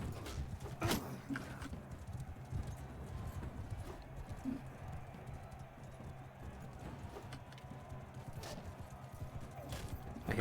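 Horses gallop in a tournament in the video game Mount & Blade 2: Bannerlord, with a steady clip-clop of hooves under a busy background of game ambience and scattered sharp hits, fairly faint.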